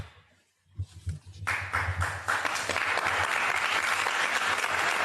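After a brief quiet moment, a large audience at a diplomatic gathering breaks into dense, steady applause that swells quickly and holds loud and continuous to the end.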